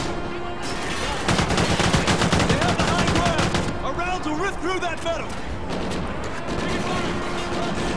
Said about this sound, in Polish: Dobra, postrzelam teraz tym, AK.